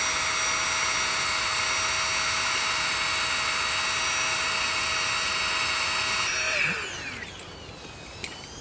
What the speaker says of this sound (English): Or I like to use this mini electric pump.